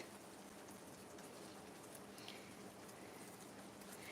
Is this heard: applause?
no